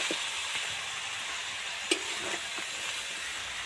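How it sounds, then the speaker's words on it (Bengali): Spices being stirred into vegetables in a cooking pan: a steady soft sizzling hiss with faint scraping stirs and one small clink of the utensil against the pan. "সব মশলা তো সবজির সাথে ভালো করে ধরে ধরে মিশিয়ে দিলাম"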